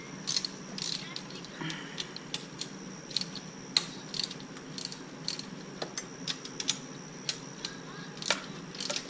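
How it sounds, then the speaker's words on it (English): A 10 mm socket wrench loosens bolts on a pit bike during a head gasket repair, producing rapid, light ratcheting clicks in uneven bursts, close and fairly quiet against a low background hum. "Grab a 10 mil socket. Let's get these loose first."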